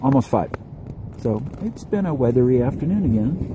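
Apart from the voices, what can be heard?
No distinct noise like a dog, phone or traffic.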